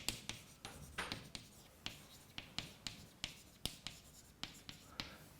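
Chalk or marker taps and scrapes on a board during a general relativity lecture, a series of short, quiet, irregular strokes and clicks in a room, with no talking over them.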